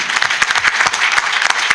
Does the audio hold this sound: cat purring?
no